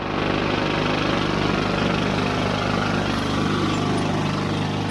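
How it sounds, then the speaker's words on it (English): Continuous rumbling machinery noise at a construction site where a jackhammer breaks concrete, a dense steady roar with a low hum and no distinct pauses or voices. "I'll just give you a couple seconds of the noise of the jackhammer, all the commotion going on in there."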